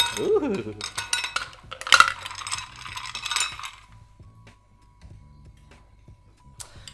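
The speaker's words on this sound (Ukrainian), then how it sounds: "в нього ми зараз будемо набирати лід і охолоджувати бокал" Ice cubes clink and rattle into a large cocktail glass being chilled behind a bar, a burst of bright clattering in the first few seconds that fades to light scattered ticks and a faint steady tone.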